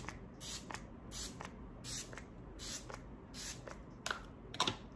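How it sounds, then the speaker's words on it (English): Iconic Prep Set and Glow setting spray mists in a series of short, quiet bursts, about eight puffs in a rhythmic run, close by with a soft background hiss. "finish it all off with the setting spray by Iconic Prep Set and Glow."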